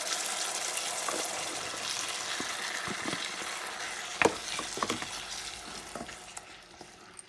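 A spoon stirs red beans stew for Puerto Rican habichuelas guisadas in a pot over medium heat, making soft scraping and clinking sounds over a low, steady sizzle, close up and without talk.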